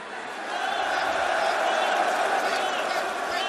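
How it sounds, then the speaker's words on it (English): A wrestling arena crowd cheers and roars in a loud, sustained swell that builds after the first half second and holds steady at a distance, with whoops scattered through it. "They go from chanting, shut the F up, to cheering when I say I'm going to walk away."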